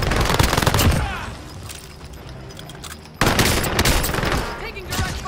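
Heavy automatic gunfire in a video game arrives in two dense, loud bursts separated by a quieter lull, with shots and impacts piling up rapidly.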